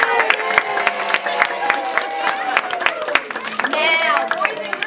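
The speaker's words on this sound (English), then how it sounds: "They're gonna clap for you now." Children in a classroom clap in a lively burst of dense, rapid hand claps that continues steadily and close by, while an adult voice talks over it.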